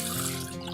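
Water is poured into rice being cooked for green chickpea pulao, giving a brief, close, steady splashing trickle.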